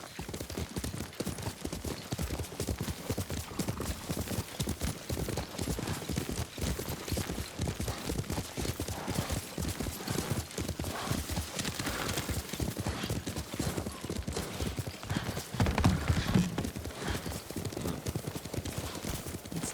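Horse hooves clip-clop at a steady riding pace in the video game Ghost of Tsushima, with regular, close, evenly spaced hoofbeats continuing throughout and briefly swelling near the end.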